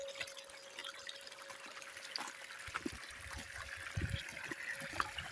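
Water flowing from a pump whose speed is controlled by a variable frequency drive, set low so pressure is reduced: a faint, steady trickle and splash with a constant electrical hum underneath, with no talk.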